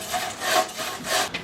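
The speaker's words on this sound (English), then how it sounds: "So I'm going to saw these logs now into manageable pieces." Logs being cut into manageable pieces with a hand saw, the blade rasping through the wood in steady back-and-forth strokes, close and clear with no talk.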